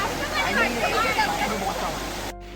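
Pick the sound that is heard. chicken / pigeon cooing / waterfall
waterfall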